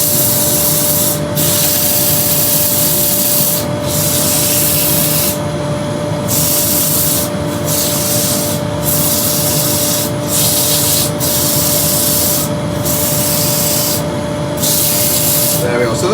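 An oak platter spinning on a wood lathe is sanded with a steady, loud rushing abrasion, broken by regular brief dips as the paper lifts and presses again, with a constant motor hum underneath.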